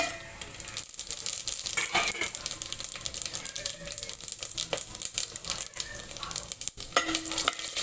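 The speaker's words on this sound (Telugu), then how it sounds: "ఆయిల్ హీట్ ఎక్కింది కదా ఫ్రెండ్స్, హోల్ గరం మసాలా దినుసులు ఇవన్నీ" Whole garam masala spices are dropped into hot oil and sizzle with a steady, close, dense crackling hiss that holds throughout, with occasional stirring scrapes.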